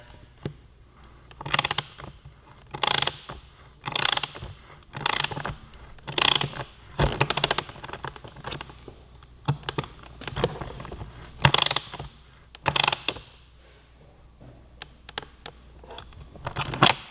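Socket wrench ratcheting fasteners on the tail section of a 2017 Yamaha R6 sportbike: short bursts of rapid clicking repeat every second or so, close and fairly quiet, with soft handling noises between them.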